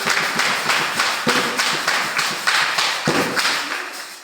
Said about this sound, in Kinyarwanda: Reka twongere duhe Imana amashyi.